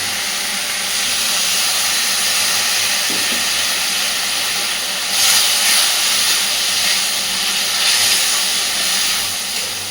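Spice paste for fish kalia sizzles in hot oil with a continuous loud hiss that swells now and then and keeps going with no pauses.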